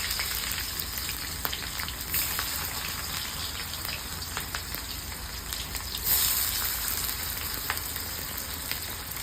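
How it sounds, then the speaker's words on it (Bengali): Onions frying in hot oil with bay leaf and whole spices for Indian mutton kosha, a steady, close sizzle and crackle that runs throughout without pause. "পেঁয়াজটা লাল লাল করে ভেজে নেব।"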